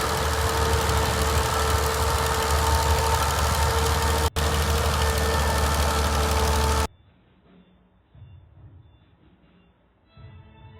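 A 36-horsepower 1946 International Harvester tractor runs loud and steady at a plow day for about seven seconds, with a brief dropout midway, then cuts off abruptly to quiet background.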